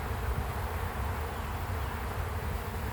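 Honey bees swarm around an open beehive, making a steady, close, continuous buzz that fills the whole stretch without pause. No one speaks.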